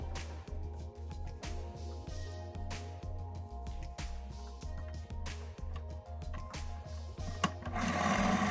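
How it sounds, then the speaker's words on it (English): A sewing machine sews a quarter-inch seam on satin ribbon with a steady, rapid rhythmic thumping of the needle mechanism, close and moderately loud, with a brief rustle near the end. "Put those right sides together and sew a 1/4 inch seam."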